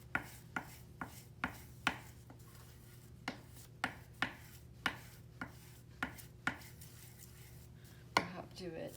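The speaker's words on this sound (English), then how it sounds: "burnishing with a wooden spoon" Wooden spoon burnished over paper on an inked monotype plate, giving a steady run of close, regular rubbing strokes about twice a second, each a short scraping thump, with a louder scuff near the end.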